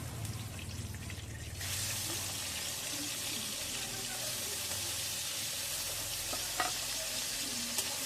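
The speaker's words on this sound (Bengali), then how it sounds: "চিংড়ি মাছগুলো হালকা করে ভাজবো।" Prawns fry lightly in mustard oil in a wok, with a steady, close sizzle that runs throughout and occasional stirring scrapes and clinks on top.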